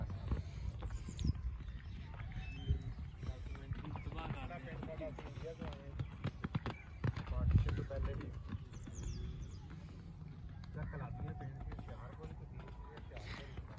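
Hooves of a horse pulling a tanga cart clip-clop along a road in an uneven, quick rhythm, fairly close and moderate in level, beneath near-continuous chatter from riders.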